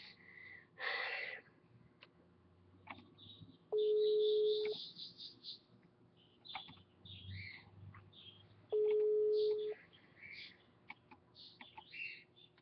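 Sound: phone call ringing unanswered

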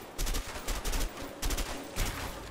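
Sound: gunfire in the video game A Way Out

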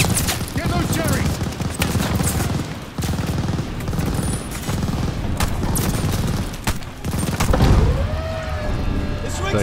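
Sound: machine gun fire in Call of Duty Vanguard video game

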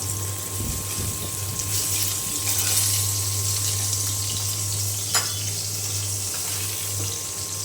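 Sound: frying hilsa fish in a pan

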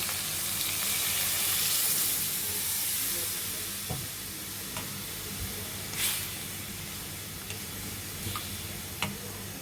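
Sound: broth poured into sizzling mutton rezala

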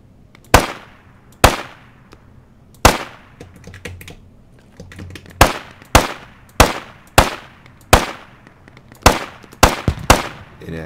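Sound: gunfire in Squad video game

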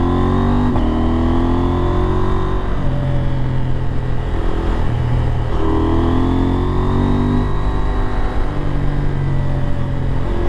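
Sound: KTM 890 Adventure R Rally motorcycle riding twisty mountain road

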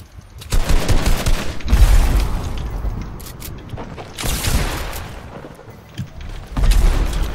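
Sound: gunfire in the video game Fortnite

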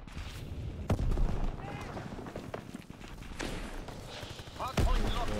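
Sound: gunfire in video game Call of Duty WW2

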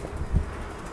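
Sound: wind blowing outdoors

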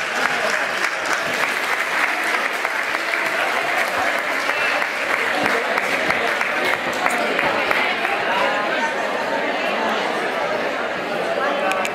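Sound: applause from an audience

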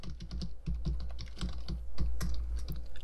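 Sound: typing on a computer keyboard

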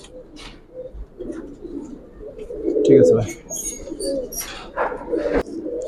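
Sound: pigeons cooing in a loft

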